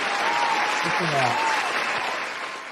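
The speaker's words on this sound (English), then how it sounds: "Oh, listen to that crowd." A large, fired-up crowd cheers and applauds continuously as hosts are introduced at a marketing event, with a voice speaking briefly over the noise.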